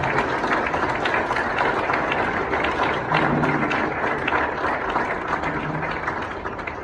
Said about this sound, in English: You can all give a round of applause to the Admiral.